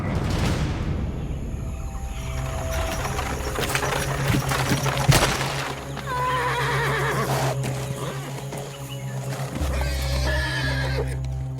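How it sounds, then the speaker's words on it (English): Carriage horses whinny and neigh loudly as the carriage stops in mud, with hoof clops and shuffling mixed in across several overlapping calls. "The horses whined, their muscles strained, but they could go no further"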